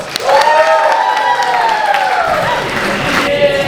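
Crowd at a steampunk costume contest breaks into loud applause and cheering, with whoops and shouts over the clapping for a few seconds before it thins out.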